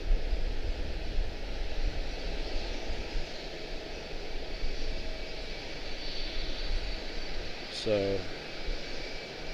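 At Charlotte-Douglas International Airport, a steady, far-off roar of aircraft engines from taxiing planes fills the background, with a brief voice near the end.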